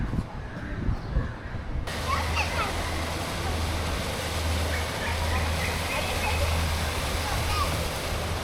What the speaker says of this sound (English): This is a replica of the Malacca Malay Sultanate water wheel.